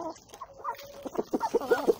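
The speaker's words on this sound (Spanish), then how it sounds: "Tengo gallos barrados." A barred rooster clucks in a backyard coop, a series of short, close, rhythmic clucks building toward the end, with soft background sound beneath.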